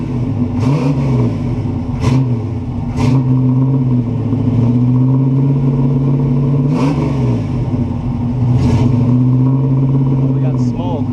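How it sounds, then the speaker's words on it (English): A 1969 Buick Special Deluxe V8 with a loud exhaust revs up and settles in repeated swells, a steady droning engine tone rising and falling close by. "that exhaust sounds louder now"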